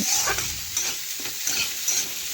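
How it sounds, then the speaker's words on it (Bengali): Potatoes coated with turmeric and salt fry in a pan, a soft sizzle broken by a few scraping stirs, close and moderately loud, with no voices. "এখন হলুদ আর লবণ ভালোভাবে আলুর সাথে মিশিয়ে আলুগুলো একটু নাড়াচাড়া করে আমি একটু ভেজে নিচ্ছি।"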